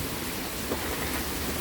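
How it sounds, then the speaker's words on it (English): Steady rain falls on a surface and tree outdoors, a dense continuous hiss of drops close by, with a faint low rumble beneath and no voices. "Are you waiting for a break in the rain to"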